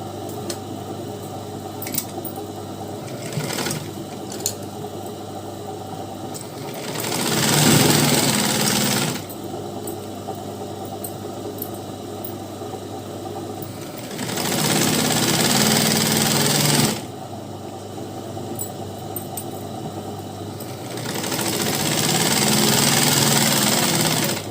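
A sewing machine stitches a skin-tight chudi pant in three long, steady runs. Its loud, close mechanical whir rises and falls between pauses, with a low motor hum running underneath throughout.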